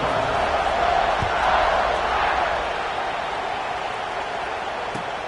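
Crowd at a college football stadium before kickoff between Iowa and Notre Dame, a broad, steady roar that swells slightly then holds, with a commentator talking over it.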